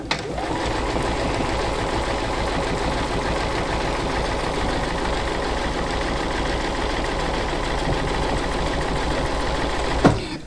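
Quilting sewing machine stitching a curve on a print-at-home quilt block, a loud, steady, rapid mechanical whir and needle chatter running continuously for ten seconds before stopping abruptly.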